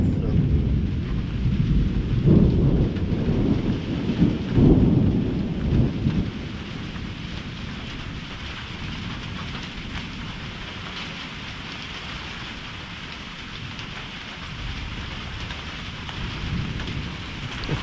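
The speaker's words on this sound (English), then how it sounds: "I love being in a canyon during a storm, especially lightning storms at night." Thunderstorm in a canyon: steady heavy rain hiss throughout with rolling low thunder swelling in the first six seconds, then easing to continuous rainfall.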